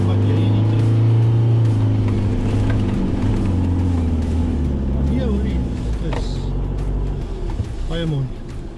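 An Isuzu Arctic Truck driving off-road, with a loud steady engine drone and low rumble rising into revving and rattling toward the end, heard from inside the cab as people talk over it.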